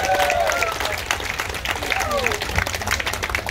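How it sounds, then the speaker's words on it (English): A crowd of about two hundred claps at a live outdoor radio broadcast in Darwin after a short dance party, with whoops and cheering voices over dense, steady applause. "round of applause"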